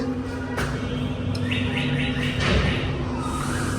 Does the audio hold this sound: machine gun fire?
no